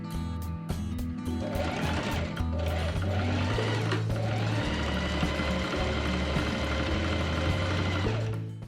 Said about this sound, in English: I pin and machine sew the front pant seam up to the corner